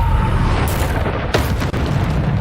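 Bombarda spell blasts in the Hogwarts Legacy video game, a loud continuous rumbling explosion with a sharp burst partway through and a steady roar throughout, no voices.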